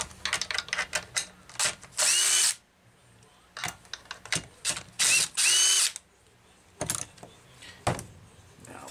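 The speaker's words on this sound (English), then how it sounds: "So this tank's held on by 3 screws. Let's take it off." A power drill whirs in short bursts, stopping and starting repeatedly as it removes the fuel tank screws on a Homelite C-Series chainsaw, with a few longer runs and clicks of a ratcheting mechanism between them.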